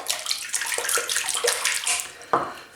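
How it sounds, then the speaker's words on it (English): Shaving brush dipped back into a basin of water, giving loud close splashing and sloshing with irregular watery bursts and a final sharper splash. "So I'm just going to re-immerse it in the water."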